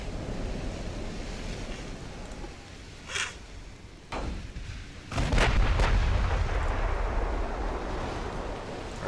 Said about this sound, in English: Our battleship fires.